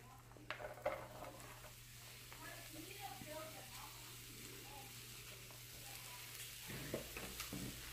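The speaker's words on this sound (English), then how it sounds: "Okay, I'm gonna cook the mushrooms." Mushrooms frying in a pan during a fish dinner preparation, a soft steady sizzle with occasional stirring clatter, heard faintly alongside a low kitchen hum.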